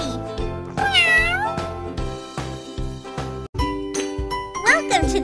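Cartoonish cat meows from a pet shelter care game, with bright harmonic mews sliding up and down over cheerful music and jingly chimes, several calls spread across the stretch.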